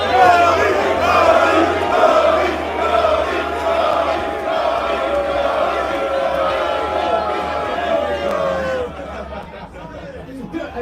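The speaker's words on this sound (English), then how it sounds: "Now for O'Shea, let's hear a Cody chant before." A big wrestling crowd chants "Cody," a loud, continuous roar of many voices with a rhythmic chanting pulse and background babble that drops away sharply near the end.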